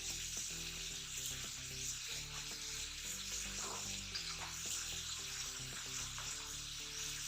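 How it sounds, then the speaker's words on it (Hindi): Tomato paste hits a hot pan with green chillies in it and sizzles loudly and steadily throughout. The frying hiss stays broad and even, with small clinks of stirring and no voices. "अब इसमें मैं साथ में टमाटर डाल दूंगी।"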